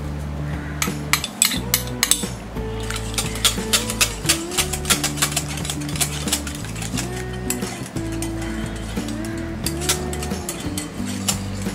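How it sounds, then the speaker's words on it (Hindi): A whisk beats an egg mixture in a bowl, giving quick, irregular metallic clinks over steady background music. "इसे विस्कर से मिक्स कर देंगे, मिक्स कर लेंगे।"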